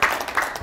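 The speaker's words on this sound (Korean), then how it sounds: "박수 한번 치겠습니다" A short burst of audience applause at a Korean family lecture, right after a joke, fairly loud and steady with no talk over it.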